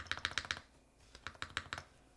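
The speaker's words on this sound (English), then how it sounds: "I think it also might be the spacebar that's making it. See, it's a little bit different." Custom mechanical keyboard with ABS keycaps being typed on, quick bursts of crisp clacky keystrokes, about four fast strikes, a brief pause, then a slower run of keys, quiet and close.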